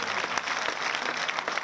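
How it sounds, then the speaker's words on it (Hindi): An audience at a Hindi poetry recital gives a round of applause: dense, continuous clapping at moderate distance, with no voice breaking through. "जोरदार तालियां एक बार"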